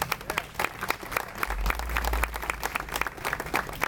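Scattered audience clapping at a news event for a city's first electric bus, moderately loud and steady with faint crowd murmur underneath.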